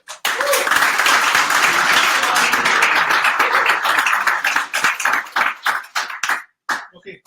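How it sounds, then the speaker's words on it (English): Audience applause for a speaker at a PHP meetup, loud continuous clapping from a small crowd that thins into scattered individual claps before stopping. "let's give a warm applause to Ante"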